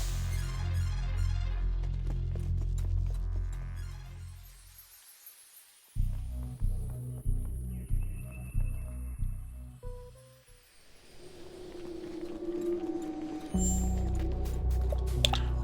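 An elevator ride in the Sea of Stars video game, heard as a low mechanical hum with a steady run of rhythmic throbbing pulses, set among soft tonal music-like layers and a rising whir at the end. No one speaks.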